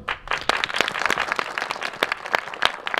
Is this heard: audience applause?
yes